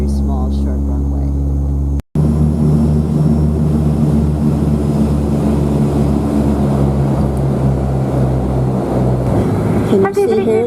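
Cabin drone of a Widerøe Dash 8 propeller airliner in flight over northern Norway, a loud steady low hum with tonal propeller harmonics, briefly cut by a short gap, with speech heard over it.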